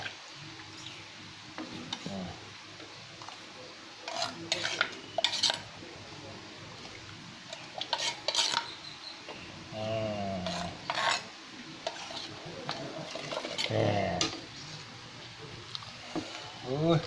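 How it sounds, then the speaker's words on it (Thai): Water poured into a pot of Isan-style curry with wild sweet leaves, red ant eggs and mackerel, then stirred, giving bursts of scraping and clanking against the pot with a gurgling stretch and a voice talking. "ใส่น้ำลงไป"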